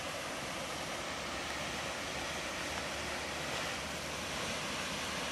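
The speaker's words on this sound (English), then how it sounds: "There's a waterfall back there. It's pretty big." A large waterfall beside a hiking trail roars as a steady, broadband rush of falling water, heard continuously from some distance with no talking over it.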